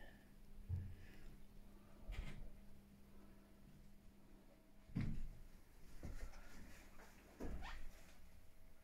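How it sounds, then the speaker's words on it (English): Sliding doors in a bedroom of a converted shipping container rumble and knock as they open or close, several faint slides and bumps spaced across a quiet room with low background hum. "Sliding doors."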